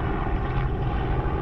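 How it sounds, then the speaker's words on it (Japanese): Helicopter passing over a riverbank, a steady low rotor drone and rumble that fills the whole moment without fading, fairly loud and continuous with no voices. "ずっとこうやってね、ヘリが飛んでるんですよ、今日"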